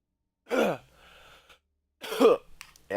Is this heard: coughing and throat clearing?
yes